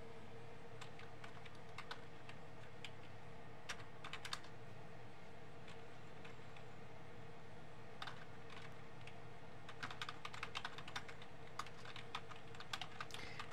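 Typing on an external wireless keyboard connected to an ASUS ROG Ally through a USB to USB Type-C adapter, with soft, quiet key clicks in irregular bursts over a steady background hum.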